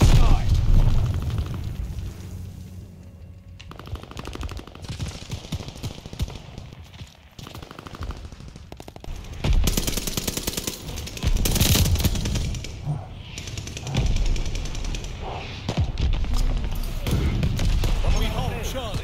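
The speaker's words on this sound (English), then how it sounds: "Glide bomb set to drop." Explosions and gunfire from a Call of Duty match, with a glide bomb dropping: dense bursts of booms and rapid shots rumble throughout, swelling heavily in the second half, under voices talking over game chatter.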